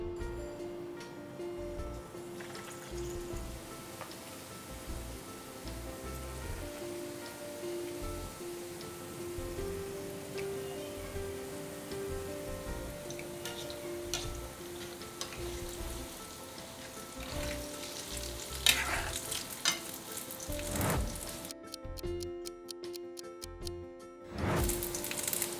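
Batter-dipped potatoes frying in hot oil for aloo barule, a quiet continuous bubbling sizzle with a low steady hum, growing busier and crackling near the end.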